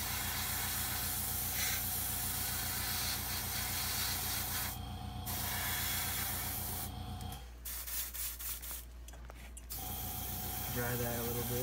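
Paint spraying onto a golden shad fishing lure, heard as a steady hiss with brief gaps and an airbrush-like mechanical rattle, continuous and close with no speech.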